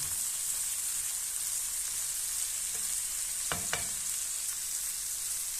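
Bitter gourd fries with salt and turmeric in a steady, close hiss of oil, with a couple of sharp spoon knocks and scrapes against the pan partway through.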